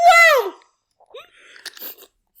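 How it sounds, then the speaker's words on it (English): Ice is crunched right against a microphone, heard as a few brief, close crunching bursts after a short vocal sound. "I just crunched ice on my microphone"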